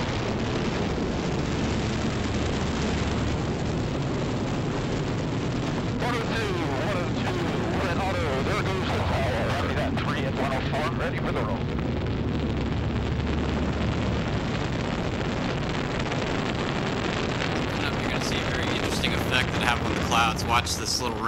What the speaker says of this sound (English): Standing by for burnout of the twin solid rocket boosters and jettison.